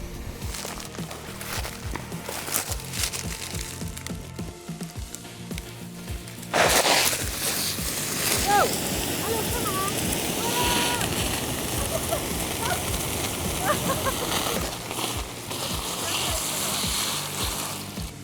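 At an off-grid greenhouse water system, a sudden burst of hissing, splashing water from a still-pressurized pipe starts partway through and keeps going steadily, loud and close, after a quieter stretch of clattering handling.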